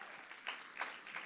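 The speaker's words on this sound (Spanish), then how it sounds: "Un aplauso para Lee." Audience applause in a church or lecture hall, short and moderately faint, a dense patter of many hands with a couple of louder swells, heard alone.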